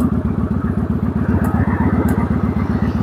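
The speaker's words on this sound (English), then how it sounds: "I still can hit that, the gas or the throttle, and it can make as much noise as it wants." Motorcycle engine revved hard on the throttle while the clutch is held in, a loud, close, rapid pulsing roar with rhythmic exhaust chatter and no talking.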